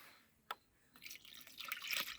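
Water splashes and drips as a pesticide mixture for treating a pear tree is rinsed into a sprayer tank, a single drip then a growing trickling pour, close but fairly quiet.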